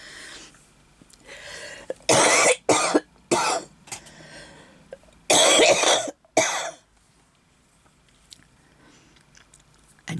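A woman coughs in several loud, harsh bursts from throat irritation, a pair of clusters spaced a few seconds apart, with quieter breathing and room noise between them and no talking.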